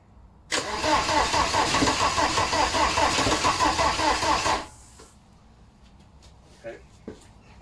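A VW TDI diesel engine sits on a garage floor before fitting into a T25 camper and cranks loudly for about four seconds without catching, then falls quiet apart from faint clicks and handling noises.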